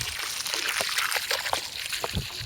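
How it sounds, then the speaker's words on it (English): Water trickling and sloshing steadily from a can along a trough drawn in allotment soil before sowing spring onion and beetroot seeds, a close, continuous splashing pour. "then you just need to water all the way along the trough."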